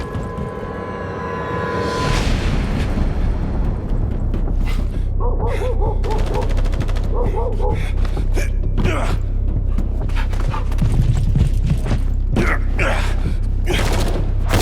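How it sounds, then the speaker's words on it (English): Gunfire from the video game The First Descendant rattles in loud, repeated bursts over a constant low rumble of game sound and music, with sharp transients scattered throughout and a gasp near the start. "gunfire."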